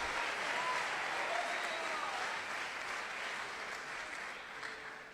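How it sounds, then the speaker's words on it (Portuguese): Congregation applause at a church service, a steady dense wash of clapping across the whole stretch, fairly distant and even, without a clear voice on top. "Dá um aplauso a Jesus"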